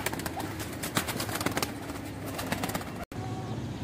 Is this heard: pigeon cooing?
yes